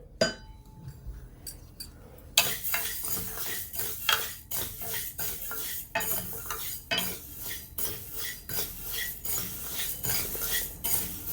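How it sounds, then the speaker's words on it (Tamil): Moong dal being dry roasted in a pan, a spoon scraping and clinking against the metal in quick, uneven strokes, the grains rattling softly with no sizzle. "இப்போ பாசிப்பருப்பை லைட்டாக வறுத்துக்கலாம்"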